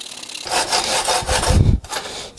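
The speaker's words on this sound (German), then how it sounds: "Ich habe hier meine Säbelsäge verwendet mit einem Holzblatt drinne und habe das Ganze dann jetzt zugesägt." A short burst of coarse, rasping sawing into a tree trunk with a reciprocating saw and wood blade, close and loud, ending with a thump as the cut finishes.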